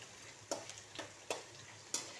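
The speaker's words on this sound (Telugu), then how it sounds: "పులిహోర కోసం తాలింపు వేస్తున్నాను" Spices, peanuts and chilies crackle and pop in hot oil for a tamarind rice tempering, a soft steady sizzle with sharp spits breaking out every half second or so.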